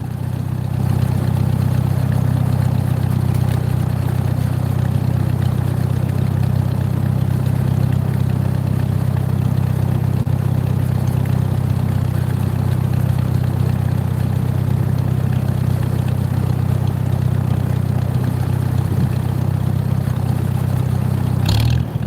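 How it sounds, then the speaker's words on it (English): An open-ended tractor engine idles steadily in rural South Dakota, a loud, constant low rumble that holds even throughout with no revving and no voices. "It's kind of an open-ended tractor."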